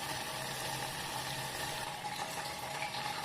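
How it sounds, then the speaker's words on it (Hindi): Water for a kadha herbal decoction bubbles steadily in a pot, a soft, even boiling hiss and gurgle with no voices. "ये देखिए अब हमारा पानी अच्छे से उबल रहा है"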